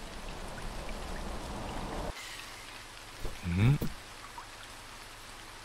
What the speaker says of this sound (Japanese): あれ違う、雨の音する。